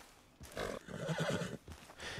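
Horse in the video game Red Dead Redemption 2 rearing, letting out a loud, close whinny with rapid tremolo, flanked by heavy hoof thumps before and after.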